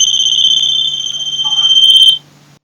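A loud, steady electronic beep tone from a portable electronic gauging probe measuring ullage in a tank, turning continuous on reaching oil, with a slight pulsing flutter, then cutting off abruptly, leaving quiet behind.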